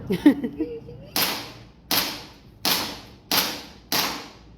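Gunfire at a shooting range: five sharp, evenly spaced shots ring out about a second apart, each a loud close crack with a short decaying tail, after a brief murmur of voices.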